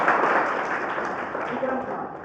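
Audience clapping at a talk on mental health, a loud, dense burst of hand claps that fills the room and eases off slightly toward the end.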